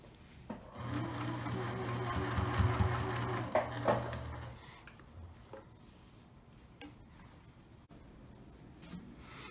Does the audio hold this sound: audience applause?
no